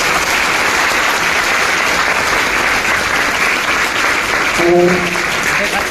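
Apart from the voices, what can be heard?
students applauding loudly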